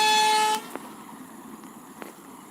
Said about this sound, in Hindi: तो देखो वो गाड़ी जा रही है।